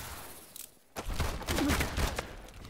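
Rapid gunfire bursts out in the Call of Duty: Advanced Warfare video game, a dense volley of quick shots after a short lull, fairly faint and close within the game's mix.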